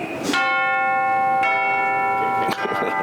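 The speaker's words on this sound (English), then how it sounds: "Let's hear some chimes, maybe." Three resonant metallic chimes struck one after another, each ringing bright and sustained with long, shimmering decay.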